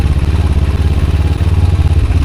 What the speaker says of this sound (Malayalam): പാരലൽ ട്വിൻ്റെ ആ ഒരു എൻജിൻ പെർഫോമൻസ് ഒരിക്കലും ഒരു സിംഗിൾ സിലിണ്ടറിൽ കിട്ടില്ല.